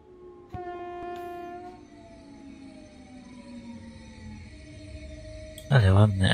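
An electric multiple unit passes through Będzin station in the SimRail train game, its horn sounding as a drawn-out tone sliding lower while the train rumbles by, followed by a brief burst of a voice at the end.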